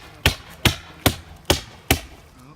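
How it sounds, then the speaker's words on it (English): Screw gun driving screws into a roof, five sharp evenly spaced bursts roughly every 0.4 seconds, close and clear with no talk. "Matt's on the screw gun, screwing away."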